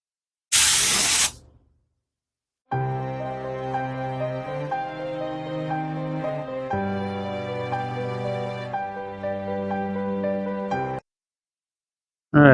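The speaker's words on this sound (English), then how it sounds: "from spraying the heavily diluted water on there" A spray bottle misting heavily diluted water onto a painted model of a broken mausoleum, a single short hissing spritz up close, then quiet while music plays, and another spritz starting at the very end.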